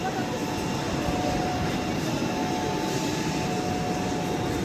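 The Nagercoil Express passenger train runs on its way from Mumbai CSMT towards Madurai, a steady, loud rumble and rushing roar from on board that never lets up.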